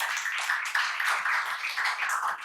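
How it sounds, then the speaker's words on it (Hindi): An audience in a seminar hall gives a burst of energetic applause, many hands clapping close and dense in a steady rhythm without any talk. "आप सबके लिए जोरदार ताली"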